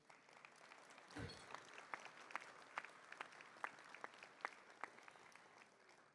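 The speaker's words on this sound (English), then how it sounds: "Let's do another big round of applause for that amazing trailer." Audience applause in a keynote hall at a Texas water conference, a steady wash of clapping with sharp individual claps standing out, fairly distant and moderately quiet, with a brief low thump near the start.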